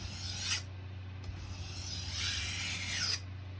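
A knife is drawn along a sharpening stone in long rasping strokes, burr being worked up after honing on a steel, with two or three bright scraping passes standing out over a steady low hum.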